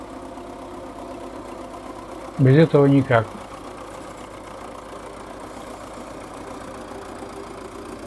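A tractor engine idles steadily with a low, even chug throughout during deep-snow clearing at a village property, while someone speaks briefly over it partway through.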